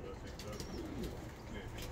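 Hünkâr pigeons cooing softly inside a pigeon loft, low murmuring coos repeating over a steady background hum, with faint voices in the space.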